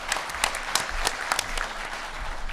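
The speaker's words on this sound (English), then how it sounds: "a big round of applause for all four presenters" An audience at an environmental PFAS forum session claps for a panel of four presenters, a burst of scattered individual hand claps at moderate distance, fairly soft and thinning out toward the end.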